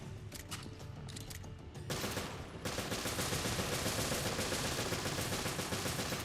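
Enemies open fire in Resident Evil Revelations Trench Raid mode, a dense, continuous rattle of rapid gunshots that starts sparse and swells into a steady, loud barrage with no talking.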